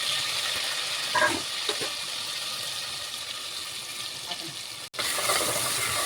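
Steady sizzling hiss of ground onions sautéing in hot oil for chicken gravy, continuous and fairly loud, with a brief clatter of stirring and a short break near the end.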